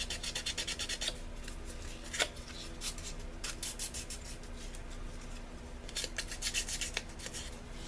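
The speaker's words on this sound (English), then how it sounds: "they call for you to just sand it all the way around these edges to smooth them out" Sandpaper rubs around the edges of a small resin bangle bracelet in quick back-and-forth strokes, coming in bursts of rapid rasping with short pauses between them. The sound is close and fairly quiet, and no one talks.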